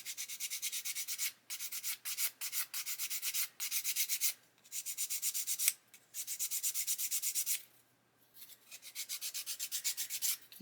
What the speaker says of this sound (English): it's only sanding the trailing edge, it's not actually touching that part there at all